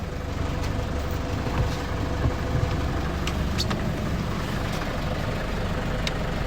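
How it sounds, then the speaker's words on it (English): A 2016 Nissan NT400 Cabstar tipper with a 3.0 dCi diesel engine idles steadily nearby, a continuous low rumble with a faint tick over it and no talk. "let's leave it running and I'll show you the tipping gear working"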